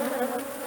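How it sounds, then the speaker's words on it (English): Honey bees at an open beehive give a dense, continuous close buzzing hum, steady and fairly loud with no voices. "I try, with the last one at least, to shake some of these bees off so there's less chance of bees getting hurt or killed"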